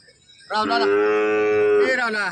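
A single long, loud moo from a nearby Khillar cow at a livestock market in Kashti, deep and drawn out for over a second, with faint background murmur.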